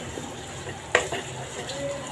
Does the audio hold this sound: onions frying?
yes